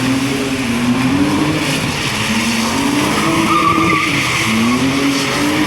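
A BMW E46 drifting on a wet street, its engine droning loudly with rising and falling revs while the tires hiss and squeal in the rain, heard from inside the car without speech.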